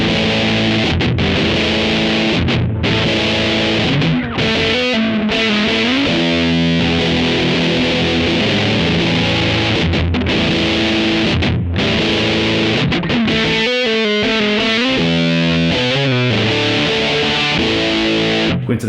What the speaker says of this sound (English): when you put the two of them together, you get a really amazing distortion sound